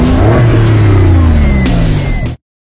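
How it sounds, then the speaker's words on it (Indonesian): A car engine revs hard and pulls away, roaring loudly with a falling pitch sweep before cutting off abruptly, with no voices. "Tom langsung mengambil alih kemudi mobil dia."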